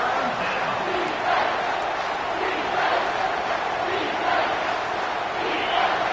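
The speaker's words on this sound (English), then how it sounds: "this crowd is turning it up a notch" A stadium crowd in the NCAA 25 college football video game roars steadily and loudly, building in waves with faint cheers, and no speech is heard over it.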